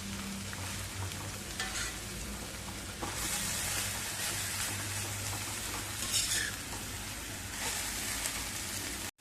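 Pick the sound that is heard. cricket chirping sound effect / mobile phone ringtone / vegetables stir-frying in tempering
vegetables stir-frying in tempering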